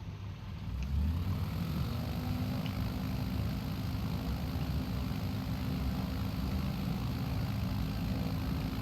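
A small plane's engine in Microsoft Flight Simulator runs up to full throttle, a loud, steady propeller drone that swells early and then holds constant.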